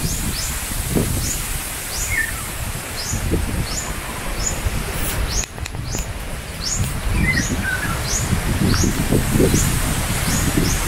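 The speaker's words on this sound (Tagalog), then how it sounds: "Wala namang bagyo pero malakas yung hangin ngayon." Strong wind gusts steadily through garden plants with no storm, producing a continuous broad rustle of leaves, with small birds chirping intermittently above it.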